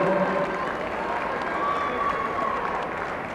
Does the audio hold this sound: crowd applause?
yes